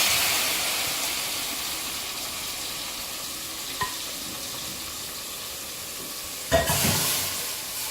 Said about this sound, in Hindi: ये इस तड़के को हम इसमें डालेंगे।